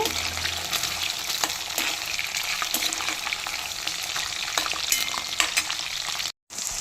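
Fish frying in hot oil in a pan for a chikudukaya curry, a dense continuous sizzle with crackling pops, close up and steady, with a brief dropout near the end.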